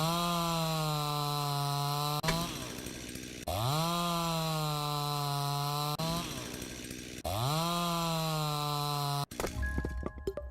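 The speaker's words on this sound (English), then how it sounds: "Oh, I have the chainsaw. Can I just use the chainsaw?" Three separate bursts of a video game chainsaw cutting wood in My Rancher, each revving up into a sustained buzzing whine and then cutting off, with short gaps between, loud and close and free of speech.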